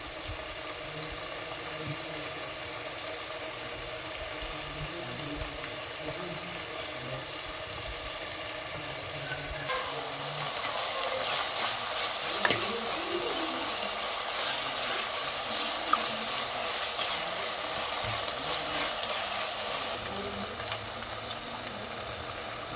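Ghee rice cooking in a pot on a gas stove as its water boils off, a steady close hiss and bubbling that grows livelier and crackly partway through, with no talking.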